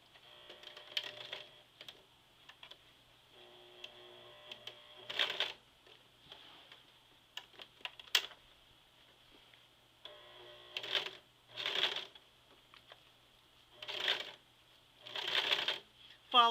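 A sewing machine stitches over a jeans zipper in short, quiet bursts of rapid clatter separated by pauses, with the run stopping and starting as the needle works over the thick zipper.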